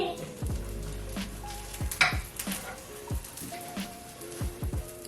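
An egg sizzles steadily in a greased frying pan, a continuous close crackle with scattered sharper pops and occasional light scrapes of a utensil against the pan.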